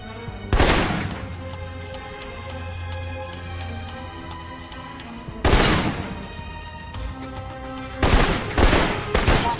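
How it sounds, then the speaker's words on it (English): Assault rifle fire in the video game Alpha Protocol: three short, loud bursts of rapid shots several seconds apart, over a sustained tonal game soundtrack. "For long-range encounters, the assault rifle's the key."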